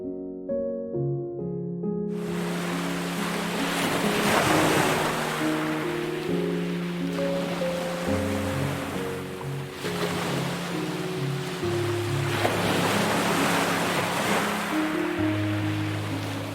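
Gentle ocean waves wash in soft, rolling swells under calm, sustained music, the surf rising and easing slowly over a steady hush.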